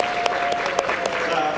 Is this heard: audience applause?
yes